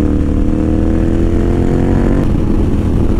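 A KTM 990 motorcycle riding along West Virginia roads, its engine droning steadily and loudly up close throughout, with a continuous low rumble and no pause or talk.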